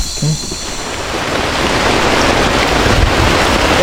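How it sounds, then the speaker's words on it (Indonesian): Rain falling on a riverside camping site in the Kalimantan forest, a steady broadband hiss that builds from moderate to heavy and fills the clip, with a brief faint sound near the start. "Waduh, hujan kawan-kawan."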